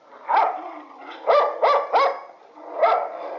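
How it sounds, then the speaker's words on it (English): Rescue dogs bark in a clear, close series of about five sharp barks, spaced unevenly, with no talk over them. "Alison and Steve Hyatt have 2 rescue dogs, Rocky and Mina."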